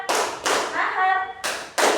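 Students in a classroom clap in bursts during a chanting exercise, with sharp broadband claps coming in short rhythmic groups near the start and end and a voice speaking in between.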